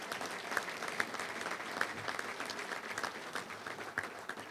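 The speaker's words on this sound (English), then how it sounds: "Let's give all of our sponsors a round of applause" A banquet crowd at a Little Rock touchdown club gives the sponsors a round of applause, a thick, even clatter of many hands with a few sharper claps standing out, sustained throughout.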